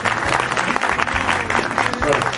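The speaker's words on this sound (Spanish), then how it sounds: "Un aplauso para usted." Audience at a book fair presentation in Arequipa applauds an author, a dense, loud burst of clapping from a packed room that carries through the whole short stretch.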